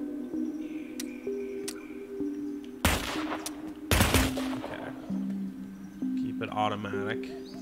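Automatic gunfire from the video game Dreams on PS4 rings out as two sharp bursts against a quiet ambient game background with faint chirps, and a person talks at the end.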